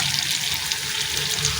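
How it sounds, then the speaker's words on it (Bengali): Onions fry in a pan with kasuri methi and green chillies for a motor ghugni, giving a continuous, even sizzling hiss at close range with no voices. "পেঁয়াজগুলো ভাজা হয়ে গেছে"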